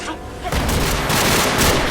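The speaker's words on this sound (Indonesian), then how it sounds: "Naasnya Gao Tian terkena tembakan hingga kondisinya terlihat sangat mengkhawatirkan" A burst of rapid gunfire erupts after a brief pause, sharp repeated cracks blending into a dense, loud volley.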